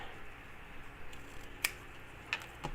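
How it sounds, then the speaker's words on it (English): A few short, crisp snips of ribbon scissors cutting ribbon, spaced apart, over a quiet background hum. "we're going to grab our ribbon scissors"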